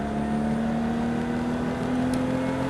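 Car engine speeding up steadily during a driving lesson in Trappes, a continuous close hum with a rising tone, no talk.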